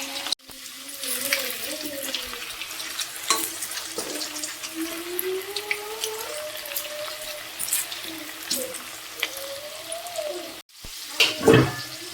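Food sizzles in hot oil in a home kitchen, a steady crackling hiss that runs almost unbroken, with thin tonal sounds drifting over it and a sharp clatter near the end.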